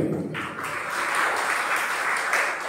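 Applause from an audience at a Jain religious discourse, a steady mid-level wash of many hands clapping for under three seconds, with no voices over it.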